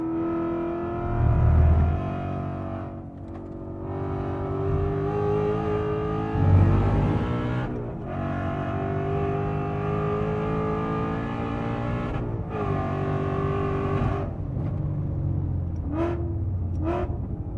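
An 800+ horsepower Ford Mustang RTR Spec 5 laps the Nürburgring, its engine a loud sustained drone heard from inside the car, rising and falling through gear changes with brief lifts and a few sharp blips toward the end.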